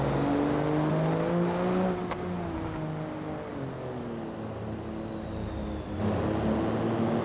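Car engine and exhaust in BeamNG.drive hum steadily with shifting pitch, a loud continuous drone that rises and falls as the vehicle accelerates and eases off, with a brief whine sweeping across it and no talking.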